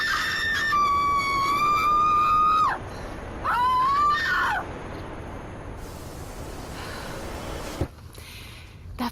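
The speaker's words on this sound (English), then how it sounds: "I'd like to scream." A person lets out two loud, long, strained screams, each rising and wavering before cutting off, followed by quieter noise and a brief thump.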